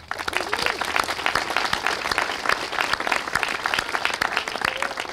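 Crowd applause for the workers on the Bucklin Hill Bridge project at a public event, sustained even clapping from many hands lasting several seconds.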